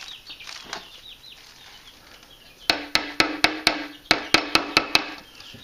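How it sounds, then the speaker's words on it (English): Staples are driven into a New England porch rocker frame to hold a weaving strand. After a quiet stretch come two quick bursts of sharp, loud staple-gun snaps, about eight in all, evenly spaced and close. "I'm going to attach it back here with staples."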